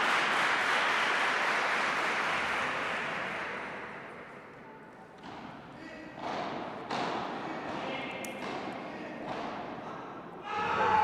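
A padel final audience in Zurich gives a broad wash of crowd noise that fades, then breaks into slow, rhythmic unison claps spaced about a second apart, with a commentator talking over it.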